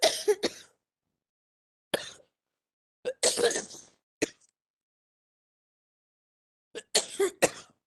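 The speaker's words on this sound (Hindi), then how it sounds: "एकदम खांसी आ गई।" A woman coughs and clears her throat in short bursts during a leadership talk, several separate coughs spaced across the clip with silence between them.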